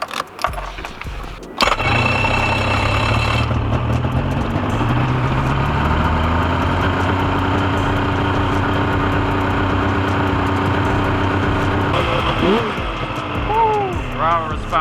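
A Yamaha Viper 700 snowmobile engine, freshly cleaned carburetors, catches after a short start-up and settles into a steady, loud idle close by, with a faint higher squeal rising near the end.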